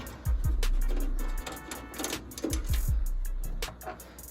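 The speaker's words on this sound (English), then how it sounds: "Just taking the two side panel screws that I have off" Screws are backed out of a computer side panel, with rapid ticking and ratcheting clicks from a screwdriver in two close bursts, plus a couple of low thumps as each screw comes free.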